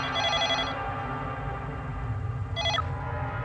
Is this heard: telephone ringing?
yes